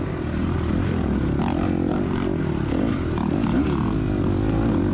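Yamaha dirt bikes race in a high school AA class motocross event, giving a steady, buzzing engine drone at moderate distance with no break throughout.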